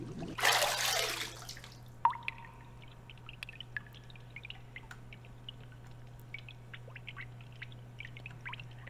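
Water in the video game Pocket Mirror: a burst of splashing pouring water at the start, then a steady trickle with scattered drips and faint chirps over a constant low hum.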